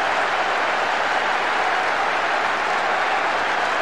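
Crowd cheering in a stadium from the PS2 soccer game World Soccer Winning Eleven 10 builds into a dense, steady roar that fills the whole stretch with no pauses.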